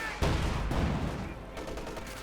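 A tank in the Company of Heroes 2 strategy game fires at a German Panther tank: a loud, booming cannon shot bursts in and leaves a dense rumbling battle din of explosions and gunfire that carries on for the rest of the clip.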